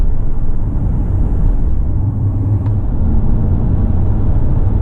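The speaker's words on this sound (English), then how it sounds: "Jaguar worked tirelessly to make sure that the supercharger could be heard inside the cabin, but not be too intrusive" A 2003 Jaguar XKR's supercharged engine drones steadily inside the cabin, a loud, continuous low rumble with road noise and no break in tone.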